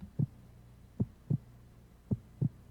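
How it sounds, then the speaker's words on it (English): A slow heartbeat sound effect from the video game Aoi Shiro, five soft low thumps in uneven lub-dub pairs, muffled and steady against quiet. "The sound of my heartbeat, of the blood rushing, buzzed in my ear and was annoying."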